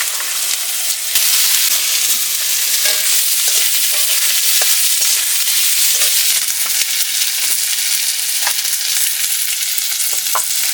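Loud, continuous sizzling and hissing of radhuni seeds and garlic dropped into hot oil in a wok, with occasional crackles and spatters and no voices.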